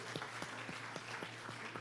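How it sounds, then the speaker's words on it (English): Round of applause from an audience at a mayoral town hall meeting, steady dense clapping filling the whole stretch at moderate level with no talk over it. "Let's give him a round of applause."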